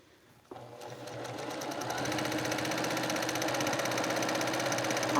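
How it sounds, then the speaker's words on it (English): A sewing machine starts up and stitches a quilt with a steady, rapid mechanical whir and a fine rhythmic clatter that grows a little louder, close by and without talk. "Now I just sewed over that pin, look at me."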